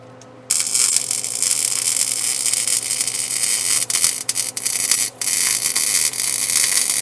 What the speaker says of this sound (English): I'm going to blindly weld it out here, I guess.